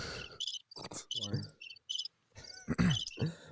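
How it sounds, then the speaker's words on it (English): Repeated bursts of cricket chirps, high and trilling, broken by short gaps and a few louder noisy bursts, fairly close and clear. "Damn, crickets."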